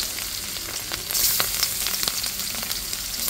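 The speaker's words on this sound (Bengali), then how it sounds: "আর এদিকে কিন্তু মাছটা ভাজা দিয়ে দিচ্ছি" Two small hilsa fish fry in hot oil in a pan, a dense, steady sizzle with crackling pops throughout, close and fairly loud.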